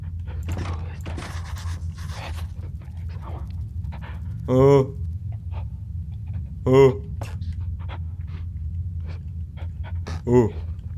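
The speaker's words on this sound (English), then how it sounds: "Sounds like a dog." Inside the Penumbra: Overture video game, a dog pants in three separate bursts of rapid, rhythmic breaths, each a second or so long, over a low droning background with scattered soft clicks.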